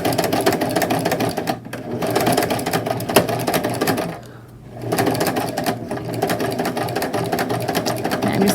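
A sewing machine runs a straight stitch along a knitted sweater steek, its loud rapid mechanical chatter steady and close, pausing briefly twice before resuming at an even pace.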